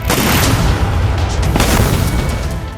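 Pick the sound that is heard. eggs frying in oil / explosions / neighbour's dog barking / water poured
explosions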